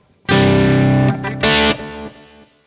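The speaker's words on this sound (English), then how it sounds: "It's got an analog delay after it as well." Electric guitar played through a Zoom MS-50G multistomp with distortion and an analog delay, two loud sustained overdriven chords separated by a short gap, each tailing off into faint repeating echoes.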